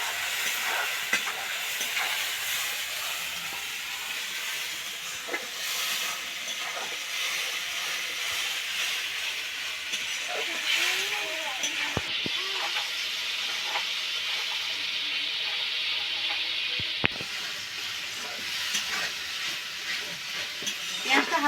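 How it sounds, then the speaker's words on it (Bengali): Onion paste fries in a pan, giving a steady soft sizzle and hiss with occasional stirring scrapes, heard faintly and continuously with no one talking. "পেঁয়াজটাকে ভালোভাবে ভেজে নেব।"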